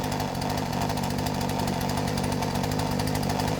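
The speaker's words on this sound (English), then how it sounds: "She's idling, and it seems to be idling fine." A Poulan chainsaw fitted with a new Hipa carburetor idles steadily up close, its small two-stroke engine putting out an even, rapid, buzzing pulse with no talking.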